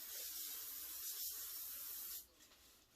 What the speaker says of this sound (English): A little bit of cooking spray.